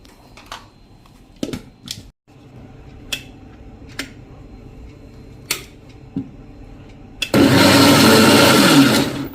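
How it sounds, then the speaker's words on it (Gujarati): Light clicks and taps, then a loud mixer-grinder jar roars on near the end, blending ghevar batter with water, running steadily until the clip stops. "તો થોડું પાણી એડ કરી અને આપણે આને મિક્સર જારમાં ફેરવી લેશું."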